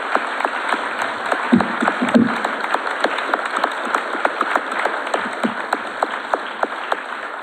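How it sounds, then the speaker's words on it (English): Scattered clapping from an audience in a school auditorium at a mayoral forum, sparse, steady claps filling the room for several seconds without voices. "give yourselves a round of applause"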